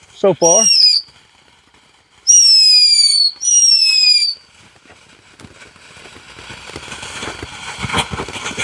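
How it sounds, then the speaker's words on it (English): A Killer Bee fountain firework goes off outdoors with loud, shrill whistling bursts, one short and then two longer, followed by a building crackle and fizz that grows steadily louder. "Another one that a lot of different companies make, a Killer Bee fountain."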